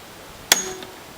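A center punch struck once with a hammer on the base plate of a Norwalk or WHF juicer, giving a single sharp metallic clink with a brief ring, close by.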